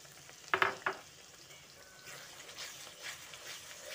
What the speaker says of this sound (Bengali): টক দইটা দিয়ে আরও একবার ভালো করে মিশিয়ে নিচ্ছি।